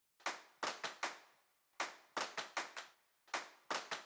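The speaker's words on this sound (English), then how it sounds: "Then claps to add more human feel and to add more groove to the rhythm." Crisp, dry hand claps play a syncopated groove in a K-pop style drum beat, falling in quick clusters of three or four with short gaps between, sharp and close with nothing else under them.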